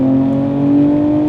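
A BMW M2 G87 holds a steady, loud engine drone at one pitch for a moment, a deep exhaust rumble without any clear rise in revs.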